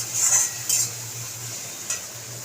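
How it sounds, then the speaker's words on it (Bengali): Egg curry frying in a pan on the stove: steady sizzle under a few scraping strokes of a spatula, close and moderately loud. "ভালো করে ভাজা হবে।"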